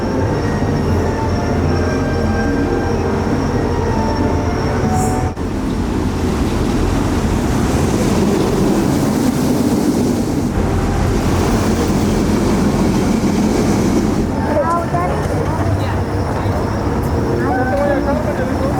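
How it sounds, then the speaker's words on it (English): The VelociCoaster roller coaster train runs along its track at Universal Orlando, a loud continuous rumble and roar with wind noise throughout, and people's voices mixed in. "they just purposely stalled the train at the very top of the top hat"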